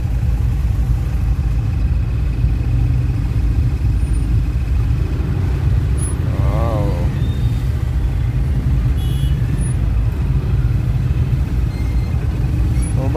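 Early morning road traffic: a continuous low rumble of cars and trucks, loud and close, with a brief rising whine partway through, and no talk.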